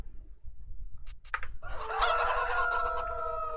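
Chickens in a backyard coop give a few short clucks, then a loud sustained crow-like call rises with other birds joining in, close by and with no talking.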